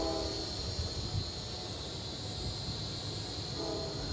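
An Eachine E511S foldable drone flies an orbit, giving a steady whining buzz of small propellers at high pitch over a low rumbling background, constant in loudness and without speech.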